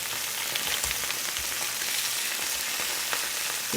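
Chicken pieces browning in hot oil give a steady, close sizzle and crackle with faint pops throughout, with no voices over it.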